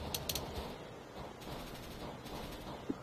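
The R8 Revolver fires in CS:GO with a quick pair of sharp shots at the start, followed by quieter in-game rumble and a faint later crack.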